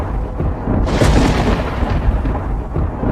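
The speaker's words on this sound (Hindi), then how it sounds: "बारिश अब तेज होने लगी थी। आसमान में बिजली कड़क रही थी।" Thunder cracks and rumbles in heavy rain as a storm sound effect for a Hindi story: one loud, broad burst rolls in after about a second and keeps grumbling beneath a steady wash.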